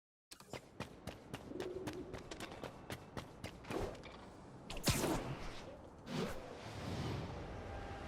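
Soft pigeon cooing in the Spider-Man PS4 video game, heard alongside a series of quick whooshing swishes from web-swinging, with a louder whip-like burst midway, all fairly quiet.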